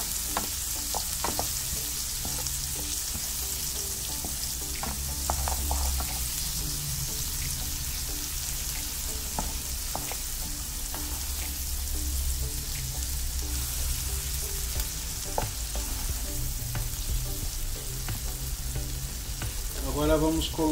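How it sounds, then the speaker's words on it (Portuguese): Onion and garlic sauté in a pan alongside crisp fried bacon, a steady close sizzle with scattered stirring scrapes and clicks running throughout, with no talking. "Vamos dar uma refogada aqui na cebola,"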